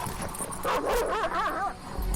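Wild dogs bark and yelp in a jumble of overlapping yips and whines, close and loud, over a dense rumbling background.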